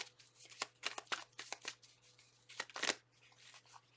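Tarot cards are shuffled in a rapid burst of crisp riffling and slapping, close and fairly quiet, with a steady low hum underneath and no talking.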